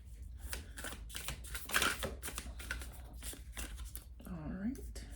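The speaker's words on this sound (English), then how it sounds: "I think I'm gonna pull out all the oracle cards" Oracle cards are pulled out and handled by hand, making a rapid run of crisp, papery flicks and shuffles close up, with a soft voice murmuring underneath.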